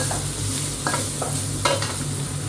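Beans stir-fry in oil in a wok with a continuous close sizzle, broken by a few scraping strokes of the spatula; no one speaks.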